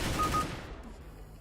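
Burst of M4 rifle gunfire in the video game CS:GO, a quick rapid string of sharp shots at the start that decays into a fading tail.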